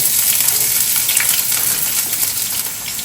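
Onions hiss and crackle in a hot frying pan as a large batch goes in for a home-cooked Bengali meal, a loud, dense, steady sizzle filling the whole stretch with no talking.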